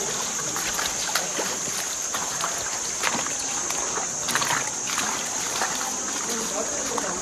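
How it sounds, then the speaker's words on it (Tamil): Water sloshes and splashes in uneven bursts as someone wades through a shallow stream at Wadi Lajab in Saudi Arabia, with a steady high hiss of insects or flowing water behind. "நமக்கு வந்து பார்த்தீங்கன்னா தண்ணியில் இறங்கி நடந்து வந்துருக்கோம்"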